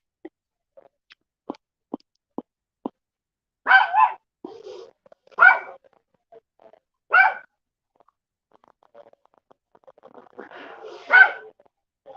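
Dogs bark in short, separate outbursts, some near and loud, others fainter, with small clicks and quiet gaps between them.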